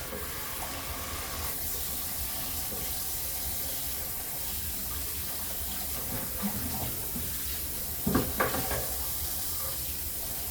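Tap water runs steadily into a sink during rinsing, a continuous close hiss with a brief clatter near the end.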